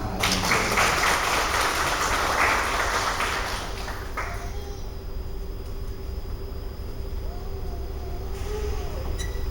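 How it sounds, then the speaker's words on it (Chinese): An audience claps to welcome a speaker to the stage, loud sustained applause for about four seconds that then fades into a quieter room with a faint tone. "我们就掌声欢迎他来演讲"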